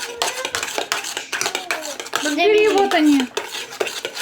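Homemade ice cream mixture being stirred in a container, with clinking and scraping of utensils against the vessel, close and fairly loud, while several people talk over it.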